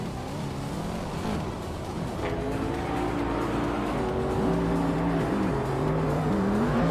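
Race cars in a racing video game drive close by, their engines droning and revving at shifting pitches over a continuous road roar, with brief whooshes as cars pass.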